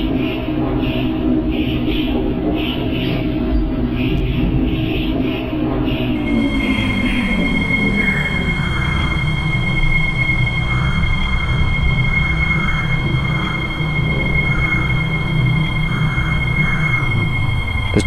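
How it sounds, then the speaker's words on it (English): A Roblox game train, a 9700 Series, rumbles into a platform, wheels squealing with sustained high metallic tones as it slows, loud and close throughout. "The train approaching platform 1 will end its service at Delta Racecourse."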